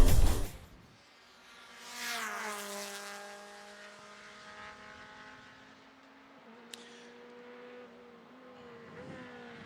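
A Mazda MX-5 Cup race car at Watkins Glen roars past with a high, whining engine note that drops in pitch and fades into the distance, followed by a quieter, steady engine drone from another car further off.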